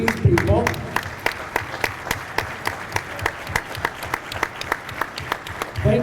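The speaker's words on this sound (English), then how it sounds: "Let's give a round of applause to these people." Audience applause fills a ribbon cutting at the Blue Water Convention Center in Port Huron, a steady crowd clapping with sharp individual claps standing out over several seconds and a brief voice at the start and end.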